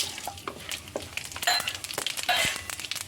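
Whole cinnamon, cloves, cardamom, pepper, star anise and fennel sizzle in a little hot oil for a kumbhalanga masala curry, with a steady close crackle, popping spits and occasional stirring scrapes.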